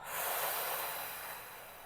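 One long, deep exhale through the nose during a relaxation breathing exercise, a close, breathy hiss that swells quickly and fades slowly over about two seconds.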